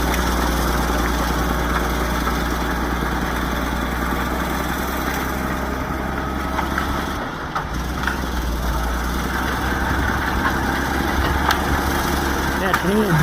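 A Caterpillar D8 bulldozer engine with an exhaust leak and a turbo that is losing pressure runs steadily at a loud, close idle. A brief dip comes midway, and there is no talk.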